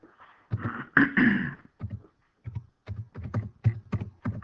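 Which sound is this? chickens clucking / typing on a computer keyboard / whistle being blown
typing on a computer keyboard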